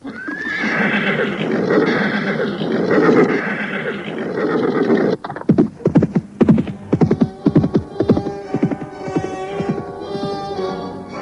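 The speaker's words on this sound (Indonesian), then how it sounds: "Setelah menaikkan perbekalan ke atas punggung kuda, mereka pun segera naik ke atas kuda." In a radio drama, horses neigh loudly as riders mount with their supplies and set off from a village. A long whinny is followed by rapid, rhythmic clip-clop hoofbeats of several horses moving away under a steady background hum.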